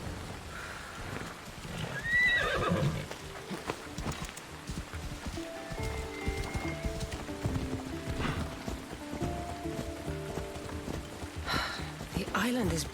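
A horse whinnies once in a video game, followed by clopping hooves and outdoor ambience, with voices speaking over much of it.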